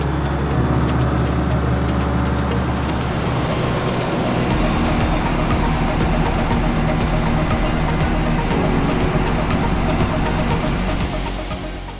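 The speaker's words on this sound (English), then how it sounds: "the engine still sounds spot on for a 1455" A 1996 model 1455 tractor engine running at a steady, loud, rough idle-to-working drone, continuous throughout with a dense mechanical clatter, on a French arable farm.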